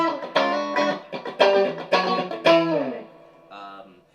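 Funk guitar chord trick on electric guitar, a handful of short, punchy strummed chords in a syncopated rhythm, close and clear, ending with a softer muted stab.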